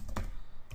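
A couple of quick keystrokes clatter on a computer keyboard, close and brief, with no one speaking.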